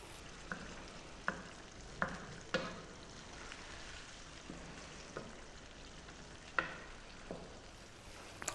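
Tomato sauce for an eggplant parmesan bake simmering in a pan, a soft continuous bubbling hiss broken by occasional light taps and scrapes of stirring, quiet and close.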